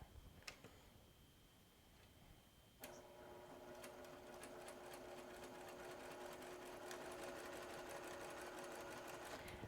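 Sewing machine running a quarter-inch seam on a rainbow log cabin quilt block: a few faint clicks, then the motor starts up into a steady, rapid ticking hum that continues close and even to the end, with no talking.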